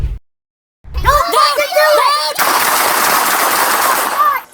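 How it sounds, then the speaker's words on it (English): Gunfire in police dashcam footage from a shooting with officers returning fire, a rapid loud burst of shots with ringing, clipped echoes, preceded by a brief muffled thump and silence, followed by sustained noisy rumble. "Officers returned fire, hitting Hunt as he tried to flee."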